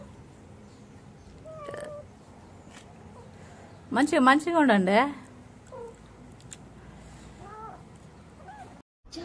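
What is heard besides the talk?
mother cat meowing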